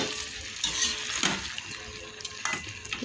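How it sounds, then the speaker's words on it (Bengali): Vegetables stir-fried in a pan for a fish dish, with a steady broadband sizzle and light scraping of a spatula through the mix, close and continuous for a few seconds with no voice. "আর সবজিটাকে ভালো করে কষিয়ে নিলাম"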